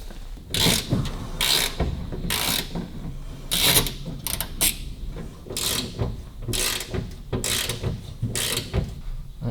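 Fuel line clips under a car are worked loose with rapid, close ratcheting clicks that repeat in short bursts throughout.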